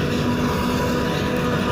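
A tractor engine runs in a village, giving a loud, steady, unbroken mechanical drone with a low throbbing hum throughout.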